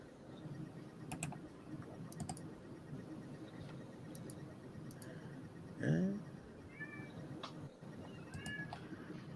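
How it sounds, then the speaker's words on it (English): A pet cat lets out a short meow mid-clip and a few fainter chirps afterward, over quiet room tone with scattered soft taps and clicks. "you know that's my cat"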